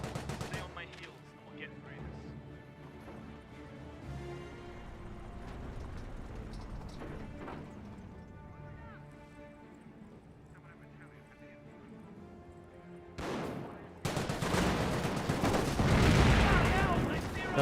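Machine gun and rifle fire in a Company of Heroes 1 battle, scattered shots and rattling bursts under steady commentary talk, swelling into a loud dense barrage near the end.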